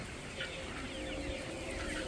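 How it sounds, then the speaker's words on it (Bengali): A flock of layer hens clucks softly and continuously, a low, busy chatter of overlapping calls from nearby birds. "যারা মুরগি পালেন তারা অবশ্যই বুঝবেন, লেয়ার মুরগি এগুলি।"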